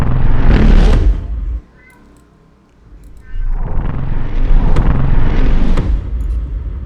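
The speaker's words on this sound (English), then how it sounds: "It sounds like the little weird lasers that are flying by" Laser gun sound effects built in Krotos Studio: dense, loud synthetic bursts with a sharp whoosh at the start, a brief dip to near quiet, then a sustained noisy, sweeping stretch that builds and holds, with no talking.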